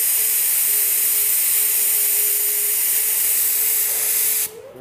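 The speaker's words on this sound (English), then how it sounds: "I'm gonna spray it at 20 PSI." A paint spray gun hisses continuously at about 20 PSI while painting a car in extreme heat, a loud steady close spray that cuts off abruptly near the end.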